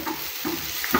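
Food stirred in a hot pan while making a homemade sandwich, a steady close sizzle with scraping strokes, heard alone.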